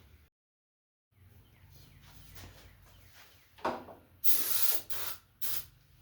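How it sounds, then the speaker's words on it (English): Several sharp hissing bursts from an aerosol can of starting fluid sprayed into a flood-damaged Snapper riding mower engine, short and loud, close by, after a brief silence and low rumbling. "we'll spray some stuff down here"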